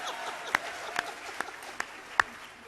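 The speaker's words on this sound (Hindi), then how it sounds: "लेकिन तालियां वैसी बजाएं जैसे पहले बजाई थी।" Scattered applause from an audience at a Hindi poetry recital, a thin wash of clapping with a few sharp, louder claps standing out at intervals, moderately distant and without speech.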